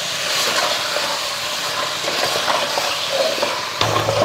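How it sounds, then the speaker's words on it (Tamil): Mutton, tomato, potato, turmeric and salt sauté in a pan, a loud continuous hissing sizzle with faint stirring, close up and without voices. "இதெல்லாம் வதக்கி விட்டுருவோம்."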